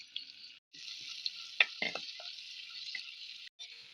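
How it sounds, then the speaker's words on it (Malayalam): Chopped garlic and ginger sizzle in hot coconut oil, a steady bright frying hiss with a few soft stirring knocks and brief pauses, close and moderately loud with no talking. "അപ്പോൾ നമ്മുടെ വെളിച്ചെണ്ണ ചൂടായിട്ടുണ്ട് ആദ്യം നമ്മുടെ വെളുത്തുള്ളി അരിഞ്ഞത് അരിഞ്ഞതാണ് ഇഞ്ചി അരിഞ്ഞത് ചെറുങ്ങനെ അരിഞ്ഞതാണ് ഒന്ന് ചെറുങ്ങനെ വഴറ്റി കൊടുക്കുക"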